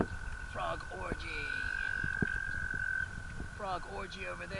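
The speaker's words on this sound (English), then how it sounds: "frogs humping each other" Frogs croaking along the Beaverkill River in spring, a chorus of repeated rattling croaks in short bursts over a steady outdoor background, with one sustained tonal call running through the middle.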